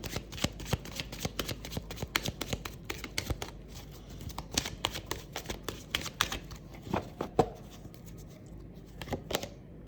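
A deck of tarot cards is shuffled in a steady run of crisp, rapid riffles and flicks, close and clear with no talking, for the full stretch.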